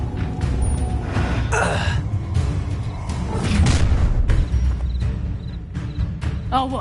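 A fire spell cast during a Hogwarts Legacy battle gives a whooshing, booming burst amid busy combat noise, with thuds and gasps throughout and a louder swell near the middle.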